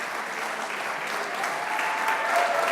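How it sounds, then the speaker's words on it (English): An audience at a Special Olympics Canada awards ceremony applauds the athletes, a continuous dense clapping that holds steady and swells slightly toward the end, with a faint tone running underneath. "Yeah, let's applaud them."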